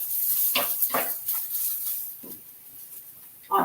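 Onions and shallots sautéing in a pan give off a steady hiss of sizzling, broken by a few brief scraping bursts as they are stirred, close and fairly loud, with no talking.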